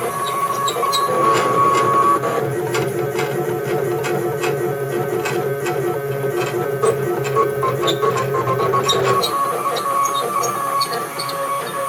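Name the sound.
CNC hot wire foam cutter cutting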